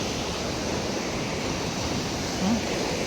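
Large waves wash ashore on a beach strewn with washed-up rubbish where boats are drawn up, a steady broadband roar of surf with a slight swell near the end and no voices.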